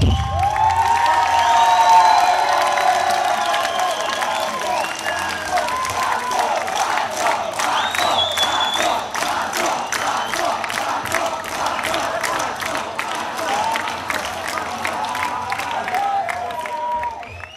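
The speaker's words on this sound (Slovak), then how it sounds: "Potlesk!" Concert audience applauding and cheering continuously, a dense, loud wash of clapping and shouts from a large crowd with a few whistles, sustained throughout.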